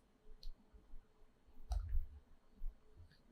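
A single crisp mouse click, faint and close, in a quiet room, selecting a merge command in Matterport software, with soft handling noise around it.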